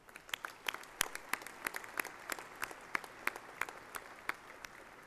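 Sparse, faint applause at a university commencement: scattered individual claps from a distant audience honoring graduating cum laude students, irregular and thin against a quiet hall.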